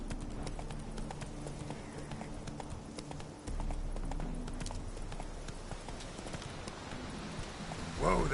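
Hooves of the horse Roach in The Witcher 3, clip-clopping in a steady quick rhythm throughout, over a low ambient game background, with a louder scuffle at the very end.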